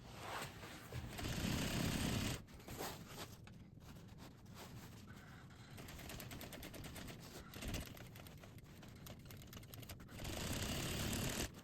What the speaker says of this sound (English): When you sew this section, we're doing 2 stitches.